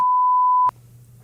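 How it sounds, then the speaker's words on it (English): A single steady censor bleep tone holds for well over half a second and then cuts off abruptly, leaving a faint low hum behind. "Why do you always beep my name out?"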